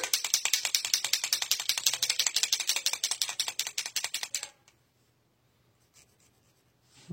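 A Posca paint marker shaken hard, its mixing ball rattling in a fast, even run of sharp clicks for about four and a half seconds, then stopping into near silence.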